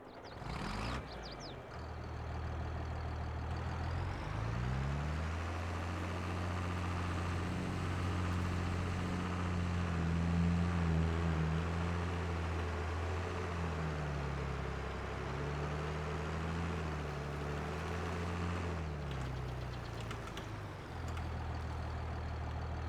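Engine of a White Workhorse 170 tractor in Farming Simulator 22, a steady, loud low drone that rises and falls in pitch as it revs up and down, running continuously with no talk.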